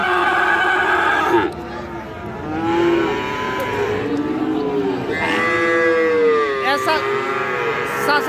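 Friesian and crossbred bull calves at Raniganj cattle market give loud, drawn-out moos, one after another, close by amid the hubbub of the market with people talking in the background.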